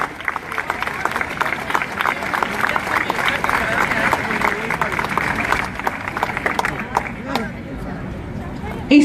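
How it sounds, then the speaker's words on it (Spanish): A crowd claps at an Armenian community march in Argentina marking the genocide anniversary. The dense, scattered applause runs steadily under amplified voices and outdoor crowd noise, then thins toward the end. "Un aplauso, sí, un aplauso."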